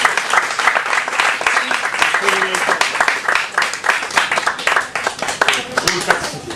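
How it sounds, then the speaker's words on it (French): An audience at a crime-fiction book fair applauds loudly and continuously for several seconds, with sharp individual claps standing out in the crowd. A faint voice can be heard under the clapping. "On peut les applaudir tous les deux."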